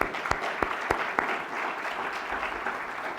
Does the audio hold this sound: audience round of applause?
yes